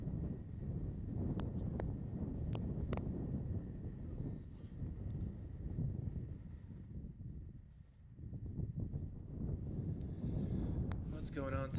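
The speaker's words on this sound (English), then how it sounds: "A little bit of a windy day here." Steady low wind rumble buffets the microphone throughout at an outdoor women's soccer match in Nevada, with a brief lull partway through and a few faint clicks and taps.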